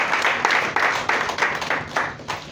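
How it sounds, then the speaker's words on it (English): An audience at a lecture applauds, a brief burst of steady, fairly loud hand clapping that slowly fades over a couple of seconds. "Please, a round of applause for him here."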